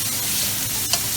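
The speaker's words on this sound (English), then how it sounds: "Cook these medium shrimp right on with that good old bacon fat that I got in there" Raw medium shrimp fry in bacon fat with a short burst of close, crackling sizzle and a light stirring scrape.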